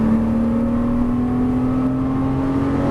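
Porsche Cayman S on a race track, accelerating steadily out of a corner with a smooth rising engine drone and whir heard from inside the car, loud and continuous with no talk.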